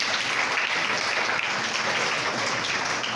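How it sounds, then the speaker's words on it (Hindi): Applause from an audience at a Sahaja Yoga talk in a school in Gurugram, a dense, steady wash of many hands clapping that stays loud and even throughout with no voices on top. "तालियां बजाइए।"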